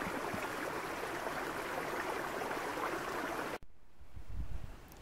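A stream flows abundantly beside a hiking path in the Marquisades hills, a steady broadband rush of water heard close by that cuts off abruptly near the end, leaving quieter low rumbling.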